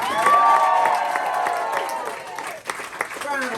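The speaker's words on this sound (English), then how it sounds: "Round of applause for the two Joes." A comedy club audience applauds with cheering and whoops, loud and full at first, then thinning into scattered claps with voices talking over it.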